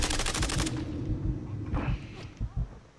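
Rapid bursts of pistol gunfire in the Call of Duty Modern Warfare 3 video game, a fast stream of loud shots up front that gives way to scattered, punchy single shots and muffled game action.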